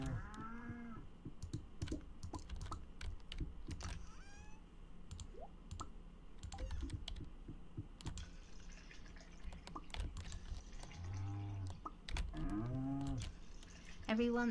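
Cows moo in a barn in the farming game Stardew Valley, a few short, soft lowing calls spaced apart amid steady keyboard typing and clicks.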